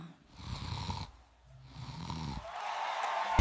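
Loud, rough snoring in two long rumbling bursts, with a quieter breathy stretch after, set against a band playing at a battle of the bands.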